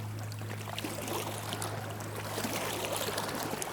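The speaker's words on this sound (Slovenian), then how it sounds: "zdaj so nas pa še valovi razveselili" Sea water sloshes and ripples along the shore, stirred into a continuous wash of small waves by a passing small boat, with a steady low hum beneath the churning.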